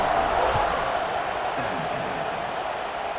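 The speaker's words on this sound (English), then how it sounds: "this crowd is buzzing after that last score" A stadium crowd buzzes in the EA Sports College Football 26 video game, a dense steady roar of a large audience, loud and continuous, fading slightly over a few seconds.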